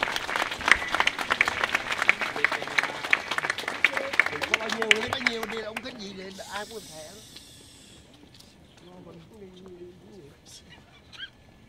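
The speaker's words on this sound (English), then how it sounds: "I'd like to just ask you for a round of applause for our Marine Band and the POW" Audience applause for a Marine Band at an outdoor memorial funeral ceremony in Westminster, California: dense clapping for several seconds that thins and fades out, followed by faint murmuring.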